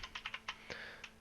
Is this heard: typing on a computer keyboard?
yes